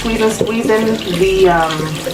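Running tap water pours steadily over a wrap-around ponytail held cupped in a hand, loud and close, while someone talks over the splashing.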